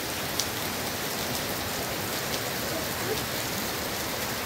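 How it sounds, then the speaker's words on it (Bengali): Steady rain falling at Nice Park in Naihati, a dense, even hiss of drops on surfaces that continues without a break and stays moderately loud throughout. "বৃষ্টি দেখাই"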